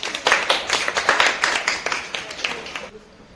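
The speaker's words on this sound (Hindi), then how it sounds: "मैम का तालियों से स्वागत।" Students and staff clap for the principal at a school Women's Day celebration: a burst of brisk, fairly close applause lasting about three seconds, thinning out and tapering off at the end.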